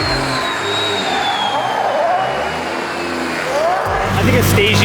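Ford Falcon XR6 Turbo wagon with a Barra engine, revving hard while drifting: a loud, continuous engine roar with rising and falling pitch, with voices heard in the mix.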